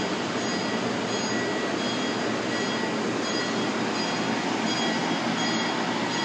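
An MBTA commuter train pulls away toward Boston from Providence, a steady broad rumble of rail cars and wheels with faint high squeal running continuously and close, no voices.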